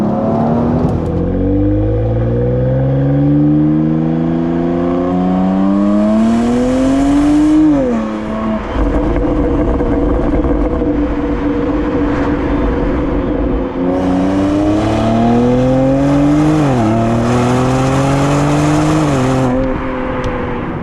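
A BMW X3 M Competition's engine revving and accelerating through the gears, loud and close, with rising pitch sweeps that drop sharply at each shift, repeated in two long pulls.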